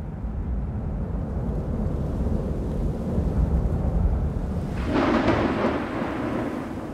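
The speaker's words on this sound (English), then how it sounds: "In the mountains, severe summer storms can feel particularly ominous, especially when storm clouds can rage in a valley for hours." Thunder from a severe summer storm in the mountains rolls as a continuous deep rumble, loud and sustained, with a brighter crackling surge near the end and no voices.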